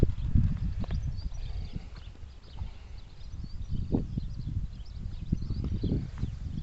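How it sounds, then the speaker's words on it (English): Horse hooves clip-clop on a countryside circular walk near Escomb: a steady, irregular series of fairly close hoof knocks mixed with faint rustling outdoors, with no talking. "I might feed that horse along there."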